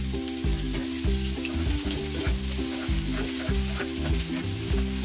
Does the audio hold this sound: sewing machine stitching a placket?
no